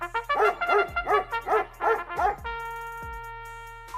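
A pack of dogs barking on a highway at night, a run of loud, close, rhythmic barks about every third of a second, then a sustained tonal sound with a last yip.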